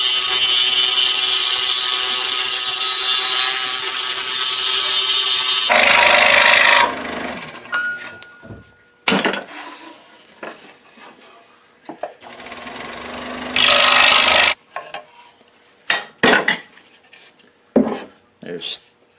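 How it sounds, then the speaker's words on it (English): A scroll saw cuts wood for doorways in a large scroll saw project, making a loud, steady reciprocating buzz for several seconds, then scattered quieter handling knocks and another short burst of cutting. "I'll use the scroll saw to cut out the doorways"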